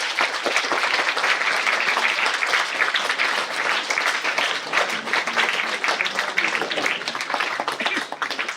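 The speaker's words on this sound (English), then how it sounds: "But we can still applaud for his achievements." A hall audience at a school St. George's Day prize distribution ceremony applauds an absent student's achievements, with thick, continuous clapping from many hands that stays strong throughout.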